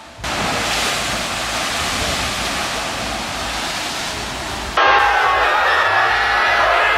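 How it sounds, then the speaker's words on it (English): Seawater surging through limestone sea caves and blasting up through blowholes on New Zealand's South Island gives a loud, continuous rushing roar. It cuts abruptly partway through to a brighter, harsher surge. "These blowholes on New Zealand's South Island happen when seawater rushes into limestone caves below and blasts upward through vertical openings."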